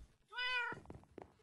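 A video game cat gives a single clear meow in a Minkraft-style sky kingdom world, a short rising cry followed by faint background game sounds.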